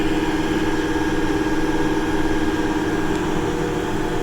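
An old Case tractor engine working under load in a field pull, a loud, steady, close low rumble that holds constant with no talking.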